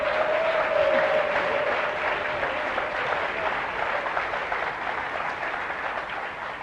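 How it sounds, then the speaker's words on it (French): Dense, steady applause from a lecture audience at a leadership talk, loud and close, slowly thinning over several seconds with a brief whistle-like tone early on. "Allez, s'il vous plaît, applaudissez-vous les leaders."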